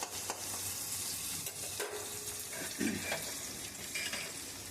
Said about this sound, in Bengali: কাঁচা পেঁয়াজটা নাড়াচাড়া করে একটু ভালো করে ভাজবো